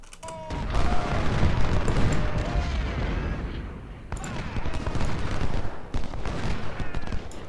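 Cannon booms and crackling musket volleys from the Civil War strategy game Ultimate General, set at Chickamauga, roll in dense overlapping bursts with deep rumbles and sharp cracks, pausing briefly before firing resumes.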